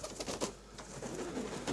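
Hungarian giant pigeons, a feather-footed breed, coo softly in a loft, with soft murmuring calls over a noisy, busy background.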